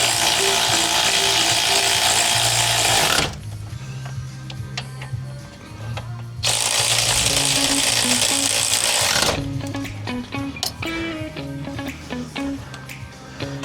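A hand wrench clicking and ratcheting on a car while a brake part is being swapped, steady mechanical ticking close up, broken by loud sustained machine-like blocks of sound in between.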